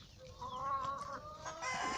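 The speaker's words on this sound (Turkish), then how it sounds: "Diğeri ötüyor arkada." A Denizli rooster crows somewhere in the background, drawn out and moderately faint, with clucking fowl and farmyard noise nearby.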